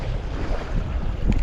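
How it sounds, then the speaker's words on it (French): Strong wind buffets the microphone in a loud, continuous low roar with gusty surges, and no voices. "Oh là là ce vent."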